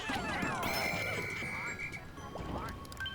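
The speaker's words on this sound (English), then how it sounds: "Deal with the frogs." Frogs croak in the video game Pikmin 3 Deluxe, a run of raspy calls and a sustained buzzing cry over game background sounds, moderately loud and close.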